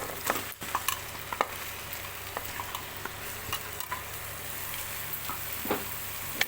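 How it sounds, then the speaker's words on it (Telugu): A kilo of mutton hisses as it goes into a pan of softened onions for a village-style mutton curry, a steady loud sizzle with scattered scrapes and clicks of stirring. "ఇప్పుడు ముందుగా మనం తీసుకున్న వన్ కేజీ మటన్ అయితే వేసుకుందాం"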